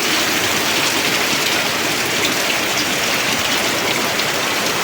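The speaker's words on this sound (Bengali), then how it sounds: "প্রচণ্ড বৃষ্টি হচ্ছে।" Heavy rain pours down in a constant, dense hiss of drops hitting surfaces, loud and unbroken throughout, with no voices.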